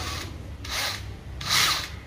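Drill boring into the painted plastic fairing of a Suzuki GSX-R750 K8 motorcycle, heard as three short whirring bursts separated by quieter pauses, fairly close and with no talk.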